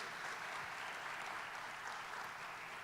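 A church congregation applauds in a steady, even wash of clapping that fills the whole stretch, moderately distant and without a break.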